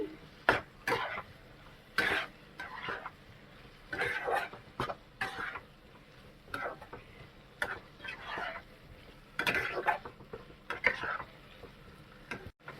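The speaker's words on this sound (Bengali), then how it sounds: "আলুটা দিয়ে দিচ্ছি টুকরা দিয়ে আমি ভালো করে মিক্স করে নিচ্ছি" Fried potato pieces are stirred into a mushroom curry in a pan, making a run of scraping, clacking spoon strokes in an irregular rhythm over a faint sizzle, close up.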